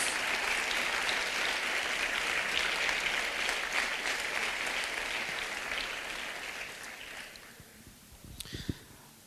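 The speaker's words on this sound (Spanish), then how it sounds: "Podemos dar una ofrenda de palmas al Señor, hermano, en el nombre de Jesús." A church congregation gives an offering of applause to the Lord, steady clapping that fills the room for several seconds, then thins and fades out near the end.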